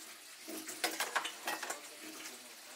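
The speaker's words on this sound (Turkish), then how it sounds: "Bir gün önceden kalan bulaşıkları yıkamak, Meryem için günün en yoğun zamanı." Leftover dishes from the day before being hand-washed at a sink in a home in Mardin: running water with light clinks and knocks of plates and pots, close and moderately quiet.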